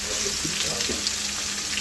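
Chopped green chili and garlic fry in a pan with a soft, steady sizzle and a few faint stirring knocks heard close up.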